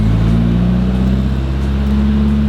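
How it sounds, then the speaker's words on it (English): A Mitsubishi Evo 8 engine, cold after years sitting, idling steadily with a loud, even low drone and no speech. "Fire up the Evo. Let's get it idling for a little bit just to try to get operating temp up"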